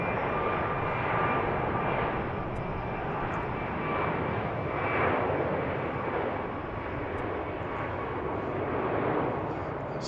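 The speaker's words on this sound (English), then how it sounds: "I believe that's a 737-900." Boeing 737-900 jet airliner at BWI airport, a steady broadband engine roar that holds at a moderate distance for the whole stretch, with a faint tonal whine on top and no talk.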